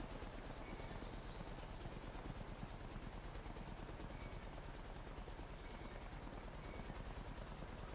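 A helicopter in the video game Blackhawk Rescue Mission 5 keeps up a dense, loud, continuous rotor chop, with rapid rattling that resembles gunfire throughout.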